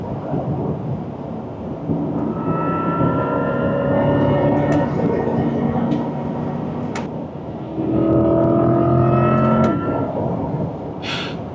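A Chevrolet Corvette E-Ray at full throttle: a loud, close engine roar with rising tones builds in two strong pulls, wrapped in steady rushing wind and road noise, with no talking.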